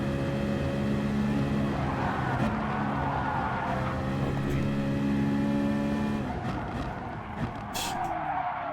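A race car laps the large Sainte-Croix circuit in Gran Turismo Sport, its engine droning steadily and loudly at high revs with tire squeal and shifting tones throughout, no voices over it.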